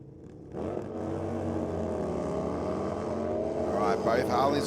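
Two Harley motorcycles launch side by side at Sydney Dragway, a loud, sustained engine roar that climbs in pitch as they accelerate away, with a race commentator talking over it.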